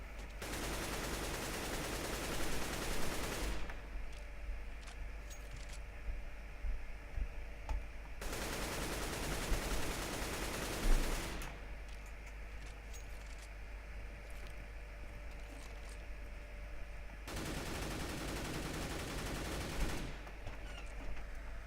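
AK-47 spray fire in the video game CS:GO, three sustained bursts of rapid automatic shots lasting several seconds each with quieter clinks and shuffles between them, fairly faint overall and without speech.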